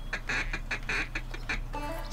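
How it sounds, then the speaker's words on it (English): Ducks quack in a Duck Dynasty hunting video game, a series of short nasal calls in quick irregular bursts, fairly faint and close, with no talk over them. "Hey, there's some ducks coming in."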